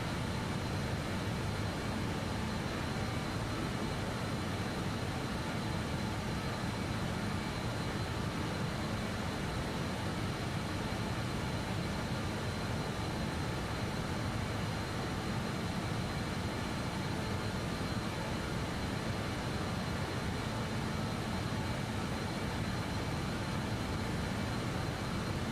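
BAe146-300 jet airliner climbing in Microsoft Flight Simulator, a dense continuous engine roar and broadband cabin rumble, steady and unchanging throughout, with no voices.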